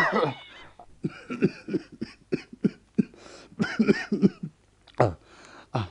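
A person in a Bangladeshi radio drama coughs and clears their throat in a series of short, harsh bursts with brief pauses, close and fairly loud.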